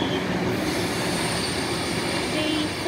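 A Sydney intercity V set train returning from the Blue Mountains rolls past at Harris Park, loud and close, with a continuous rumble of wheels on rail and high squealing from the wheels throughout.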